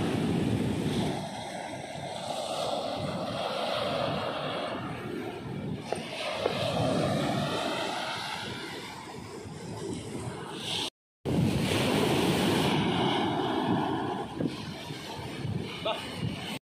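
Ocean waves break at Ponnani beach, a broad rushing surf roar mixed with strong wind buffeting the microphone, steady and loud with a brief dropout near the end; voices talk over it.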